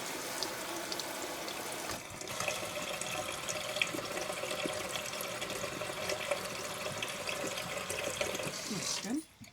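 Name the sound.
water rinsing out a sink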